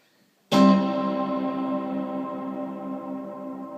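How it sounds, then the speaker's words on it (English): An electric guitar chord rings through a reverb effects pedal set to a massive hall reverb, struck once and then sustaining in a long, slowly fading wash of tone. "hear that massive reverb"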